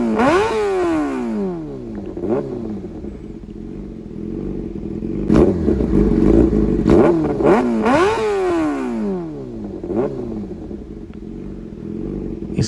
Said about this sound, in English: to test the sound of my exhaust system